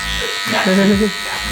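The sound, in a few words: electric hair clippers fading a haircut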